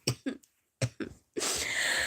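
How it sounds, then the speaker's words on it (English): Four sharp coughs in two quick pairs, close and fairly loud, followed by a steady rush of noise. "I feel like I am starting to have a cough"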